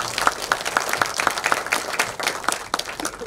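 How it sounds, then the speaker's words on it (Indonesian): An audience at a book launch breaks into applause, with rhythmic clapping that rises and falls over a few seconds in a room. "Tepuk tangan untuk Pak Nasir."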